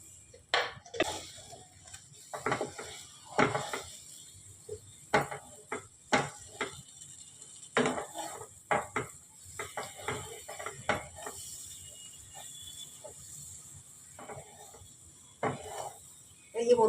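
A spoon scraping and stirring a mango laddu mixture with ghee in a pan, producing irregular clicks and taps spread across a quiet kitchen.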